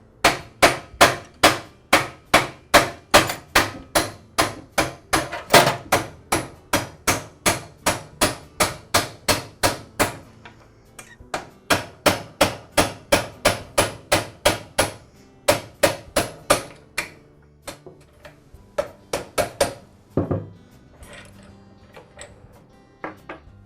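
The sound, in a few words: hammering a pivot pin out of a DeWALT miter saw with a punch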